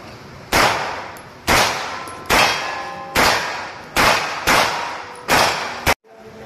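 Seven sharp, loud gunshots from a Mark Stinger firearm at an outdoor shooting range, fired at a steady pace about one per second, each with a ringing metallic tail, and no talking over them.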